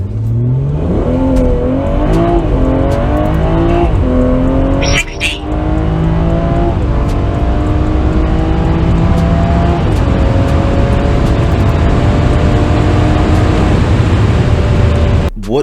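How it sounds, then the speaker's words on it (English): A BMW 340i (F30) with minimal mods launches hard from a standstill with the tires spinning, its engine note climbing loudly and continuously through rising gears, close and dominant throughout. "coming to a complete stop, flooring it, allowing the tires to spin, and then stop immediately after"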